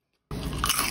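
A single crisp crunch as a crispy oven-roasted potato, parboiled with baking soda, is bitten close to the mic, a sharp onset followed by a short burst of crackling.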